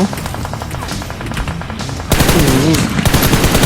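PUBG Mobile gunfire crackles in fast, dense automatic bursts for about two seconds, then a louder stretch follows in which a voice-like sound rises over continuing game noise.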